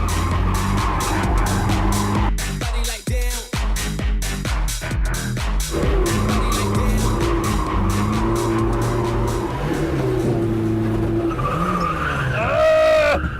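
A car drifts on water-sprayed tyres with the clutch kicked repeatedly, the engine revving loudly under long, wavering tyre squeals that run almost continuously from start to finish.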